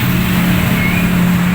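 A Euro 110 step-by-step motorcycle idles steadily through its exhaust, a low even engine hum held close and fairly loud with no talk over it.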